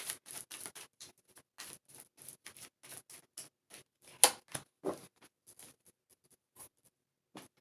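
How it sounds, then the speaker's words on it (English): A deck of tarot cards being shuffled during a pick-a-card reading, heard as quick, close, papery riffles and taps in short uneven bursts with small pauses between, fairly quiet and with no talking. "One more shuffle"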